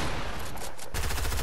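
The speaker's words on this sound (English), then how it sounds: "I'm getting sniped right now" Dense, continuous gunfire rattles through a Fortnite match with sniper fire in play, loud and close, with a brief dip in the middle before the barrage resumes, with no voices over it.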